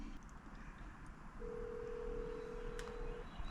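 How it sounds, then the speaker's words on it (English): A smart watch placing a phone call gives off a single steady ringback tone lasting almost two seconds. It is faint, over a low background hiss, with a soft click near the end. "It's ringing, and it's actually dialing my phone."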